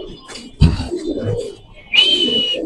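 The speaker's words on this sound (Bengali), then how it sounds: "খুব সুন্দর হোয়াইট বোম্বাই কবুতর" White Bombay pigeons at a pigeon seller's in Mirpur, Dhaka, giving low, close coos and soft murmurs, with a brief higher call near the end.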